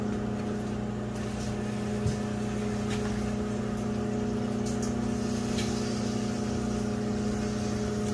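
A microwave oven cooking bacon hums in a steady, continuous drone with a low mains-like tone, joined by faint scattered crackles and pops throughout.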